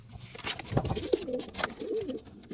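Domestic pigeons coo softly in a loft, with low rolling calls repeating over a rustling, busy background of wing and movement noise.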